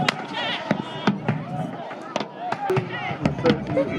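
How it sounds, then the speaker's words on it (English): Muskets crack in a ragged volley at an English Civil War Society battle reenactment, a string of sharp, distant-sounding reports spread unevenly over several seconds while someone talks over them. "that body of musketeers fired in what is known as a salve. In other words, you might think of it as a volley."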